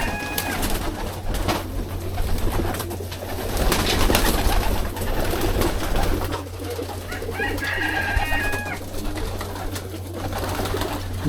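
Young racing pigeon cocks coo steadily in a loft, soft rolling calls repeating close by, with the occasional higher bird note and a low constant hum underneath.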